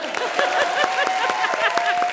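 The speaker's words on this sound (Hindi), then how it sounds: "बजाना, ताली बजा रही है जज भी, बजा" Quick rhythmic applause from a studio audience and judges on a comedy show stage, a brisk, loud run of claps with a voice calling out over it.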